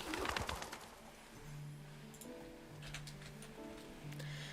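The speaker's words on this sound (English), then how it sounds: "the sect's leader's messenger bird is sent out" Soft cooing of the leader's messenger bird in the game Love and Deepspace, a low repeated dove-like coo set over faint patter of heavy rain, with a brief fluttering burst at the start.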